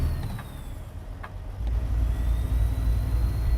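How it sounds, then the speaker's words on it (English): A truck engine in American Truck Simulator, a realistic manual-transmission driving game, gives a steady low diesel rumble that swells louder partway through and holds, alone with no talk. "Engine sounds not terrible."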